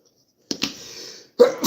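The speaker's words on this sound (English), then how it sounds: "Why am I sneezing?" A woman sneezes after spraying mosquito pesticide, two quick sharp bursts followed by a second louder sneeze, close and alone with no talk.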